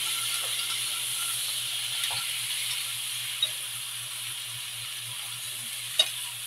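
Shrimp fry in a pan with a soft, steady sizzle and hiss while being stirred, with a couple of faint utensil taps against the pan; quiet and even throughout, without speech.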